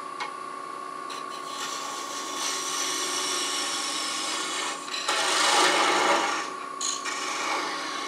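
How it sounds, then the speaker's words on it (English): Wood lathe parting off a small wooden Christmas ornament held one-handed: a steady rasping, scraping cut over a faint motor hum, growing louder and rougher toward the middle before easing off. "One-handed parting operation, not a big challenge once you get used to it"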